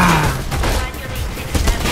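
Gunfire in the Mirror's Edge video game, a dense, loud, continuous burst of shots and booming impacts with no gaps.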